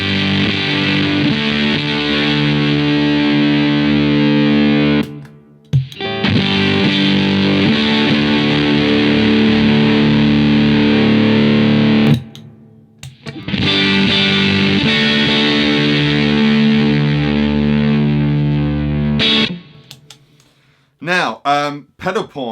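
Electric guitar through a Vemuram fuzz pedal, thick saturated chords ringing loud and sustained in three long bursts with brief silent gaps, then a few short choppy stabs at the end.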